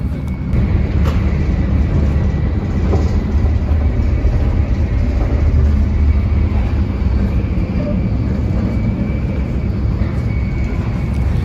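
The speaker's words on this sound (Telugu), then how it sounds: "సో ట్రైన్ ఎంత స్పీడ్గా వెళ్తుంది కాబట్టి సౌండ్ ఇలా వస్తుండేది చాలా." Inside a Japanese Shinkansen bullet train at high speed, a steady, loud, even roar of rushing air and rolling wheels fills the cabin throughout, with no voices.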